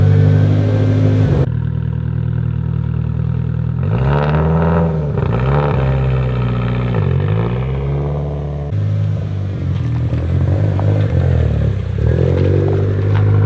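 Mitsubishi Evo X with over 700 horsepower driving in heavy rain, its engine droning loud and steady nearby, with rising and falling revs as it shifts through the gears.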